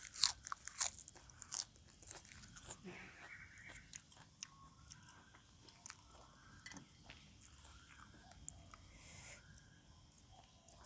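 Crunchy lotus stem and fresh prawn salad with eggplant, served with rice noodles, being chewed up close: repeated crisp crunches and wet bites in an irregular rhythm, fairly quiet, with faint voices in places.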